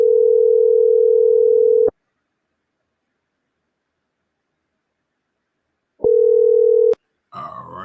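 A telephone call-in line plays a loud, steady dial tone for about two seconds, falls silent for several seconds, sounds again briefly and cuts off with a click before faint noise follows.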